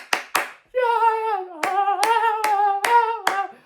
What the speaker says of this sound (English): when the Giants go into Viking clap